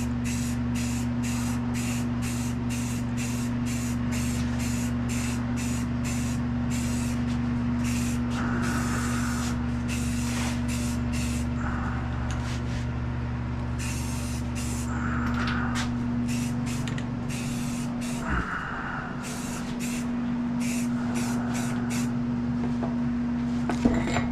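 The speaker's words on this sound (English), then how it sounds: "Come and spray all of these parts down with etching primer," Rapid repeated bursts of aerosol etching primer spray hiss onto rally steering wheel parts over a steady background hum, continuing in quick on-off pulses with brief rattles between.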